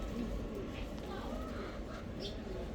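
A female Chuithal milky-eyed khaki pigeon coos softly and intermittently against a steady background hum, with faint talk nearby.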